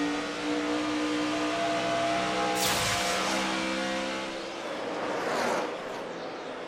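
A NASCAR stock car at the 2009 Auto Club 500 in California roars past on the track; the engine swells to a loud, close sweep midway, then fades, over a steady background drone of other cars.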